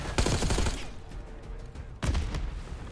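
Two bursts of rapid gunfire in the video game Call of Duty: Black Ops 6, the first loud and crackling, then a pause with faint background noise before a second volley.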